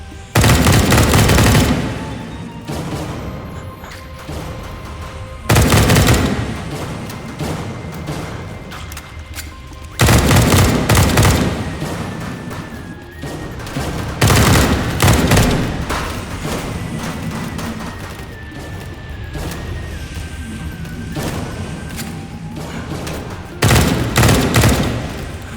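Heavy gunfire in the VR shooter H3VR, with loud bursts of rapid shots and thumping impacts coming in repeated waves, some close and some farther off, over a steady game background.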